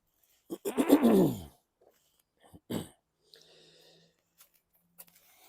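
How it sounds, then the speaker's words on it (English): A man clears his throat outdoors beside a lawn mower, one long harsh rasping rumble followed by a shorter second hack, then near quiet with faint background noise. "Let me clear my throat."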